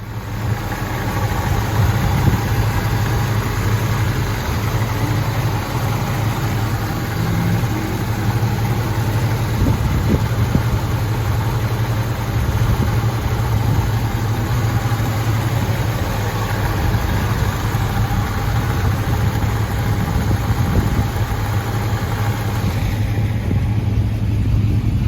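A 1970 Chevrolet Chevelle engine runs at a steady idle, with a deep, even rumble that holds unchanged and close for the whole stretch, with no talking.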